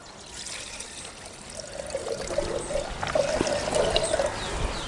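Water is poured into a cooking pot while making a Tamil keerai kulambu (greens and lentil curry), a steady trickle that grows fuller and louder over a few seconds.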